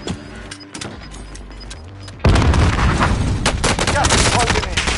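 Battle royale video game fight with a grenade blast and gunfire. Quieter game sounds come first, then a sudden loud explosion and rapid bursts of shots fill the rest.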